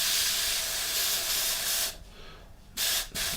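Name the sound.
airbrush spraying lightened paint on model kit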